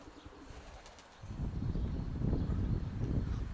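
Low, soft cooing from several pigeons fills the space, with a little wing rustle at the start before the cooing swells and continues steadily.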